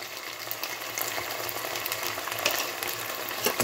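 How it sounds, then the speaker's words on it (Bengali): Masala spices with green chili and chopped tomato fry in a pan, giving a steady close sizzle with light stirring scrapes throughout and no talk. "কাঁচা লঙ্কাটা দিয়ে আমি 2 থেকে 3 মিনিট একটু মশলাটা কষিয়ে নেব"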